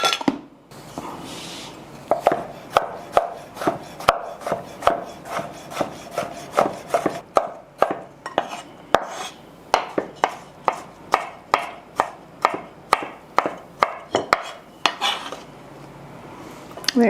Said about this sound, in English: I'm going to go ahead and just chop up some of my Clausens